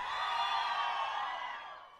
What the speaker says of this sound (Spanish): los más jóvenes, grito a la de 3.